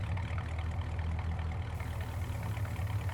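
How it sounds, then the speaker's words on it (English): A small pickup truck's engine idling in the farming game Farming Simulator 19, a steady low rumbling drone at moderate level, continuous and unchanging with no speech. "I'm so glad they made that little bitty truck in-game with these awesome engine sounds."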